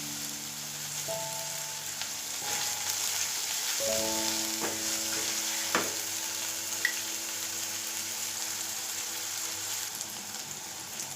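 Coriander and mint fry in a pan of kurma salna with a steady, close sizzle. A few utensil clinks and stirring scrapes sound over the constant crackle.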